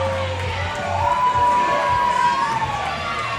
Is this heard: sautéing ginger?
no